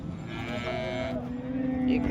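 Calves at a cattle market moo, a drawn-out tonal call rising near the end over a busy background of livestock and crowd noise.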